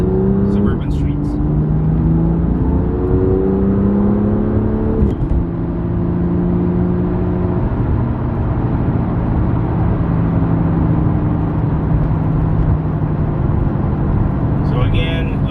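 A car with a carbon fiber roof driving in sports mode, heard from inside as a continuous engine hum and road rumble with gear shifts early on, under a voice talking throughout.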